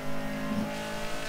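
Car engine in a racing video game, a brief close burst of steady engine drone with a slight rev partway through, heard on its own.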